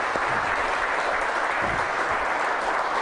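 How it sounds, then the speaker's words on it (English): Steady applause from a talk show studio audience fills the whole stretch, dense and even, with no talking over it. "Let's hear for Brad"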